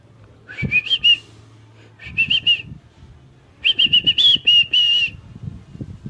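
Three bursts of quick, high, chirpy whistle attempts from a baby, loud and near, with soft rustling and low household noise underneath.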